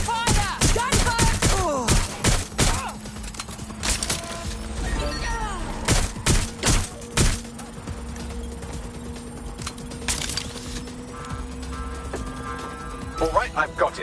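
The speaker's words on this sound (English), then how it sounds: "Taking fire! Gunfire!" Loud, rapid bursts of gunfire and heavy impacts in the video game Watch Dogs: Legion, with a voice speaking over the shooting.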